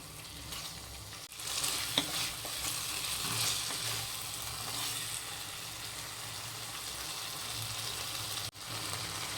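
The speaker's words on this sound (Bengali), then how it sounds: "সামান্য লবণ দিয়ে এটা আমি ভালো করে কষিয়ে নেব।" Spices with turmeric, chili powder and salt sizzle and fry in a pan for Bengali jeera ilish curry, a steady crackling hiss with occasional stirring scrapes, close and continuous.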